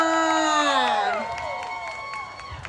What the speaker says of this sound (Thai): ขอเสียงปรบมือดัง ๆ กับเจ้าของวันเกิดในวันนี้ค่ะ